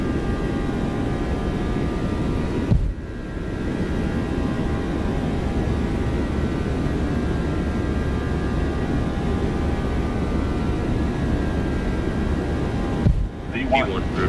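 Boeing 737-800 jet engines at takeoff thrust in the X-Plane 12 flight simulator, flying out of PDX: a steady, loud, broadband roar with a constant whine that holds through the whole run, briefly dipping twice.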